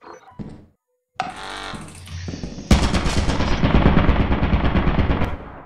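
A turret in the video game Lethal Company opens fire in a loud, rapid, continuous burst of machine-gun shots after a few short mechanical clicks and thunks, close and dominating, with no talk.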